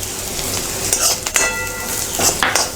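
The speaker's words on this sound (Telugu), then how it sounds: "వేగిపోయి పచ్చిమిరపకాయలు వేగిపోయి ఇప్పుడు ధనియాలు, జీలకర్ర పొడి వేసుకుందాం" Green chilies sizzling in a pan as coriander and cumin powder go in for tomato chutney, steady frying hiss with spoon scrapes and light metallic clinks against the pan throughout.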